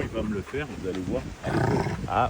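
A reactive Rottweiler growls at a toy, a low rumbling growl running under and between a man's continuous French speech at close range.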